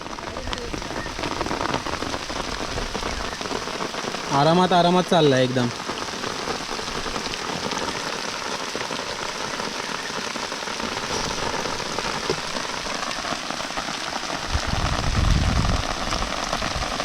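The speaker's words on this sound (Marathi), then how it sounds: "पाऊस आलाय" Steady rain patters on a surface throughout in a Konkan village, with someone speaking briefly over it and a short low rumble near the end.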